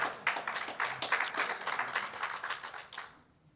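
Audience clapping at a corporate run launch event, a dense burst of many hands with steady rhythmic peaks that sustains for about three seconds, then quickly fades out.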